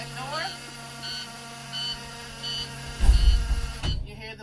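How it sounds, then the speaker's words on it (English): A bus's rear emergency door buzzer sounds in short repeated pulses, about five evenly spaced beeps, followed by a heavy thud and clatter near the end. "You hear the buzzer"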